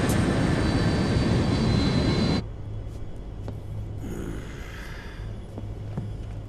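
Aircraft in flight from the video game Metal Gear Solid 4: a loud, dense engine roar fills the first two seconds, then drops abruptly to a steadier, quieter cabin hum with a low drone.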